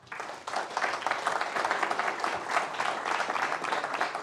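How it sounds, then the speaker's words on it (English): An audience claps for a speaker at a security conference main stage, steady dense applause that starts after a brief quiet beat and continues evenly, moderately distant and without talk over it. "a round of applause for Jerry"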